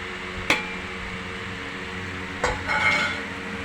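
Beef is cooked in a pot with fried onions and onion paste, with a steady soft sizzle and two clinks of a utensil against the pot, the second followed by a brief burst of louder frying; no talking.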